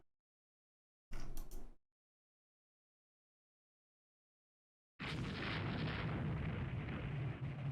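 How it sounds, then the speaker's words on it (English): A big naval gun fires in the Rule the Waves 3 naval strategy game: one short heavy boom, silence, then a second loud, longer blast with a rumbling tail, no talk. "that sounds like a big gun"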